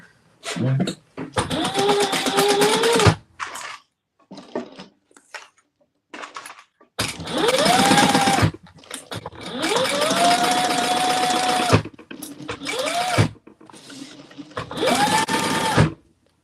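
A sewing machine stitches a seam on a small bag with narrow seam allowances. Several whirring bursts run at a steady pace, separated by short pauses, close and fairly loud, with no talking.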